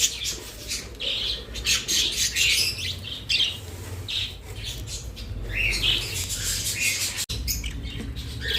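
Lovebirds and conures squawk and chirp in a cage, loud, shrill and near, the harsh calls overlapping almost continuously, with a brief sharp knock near the end.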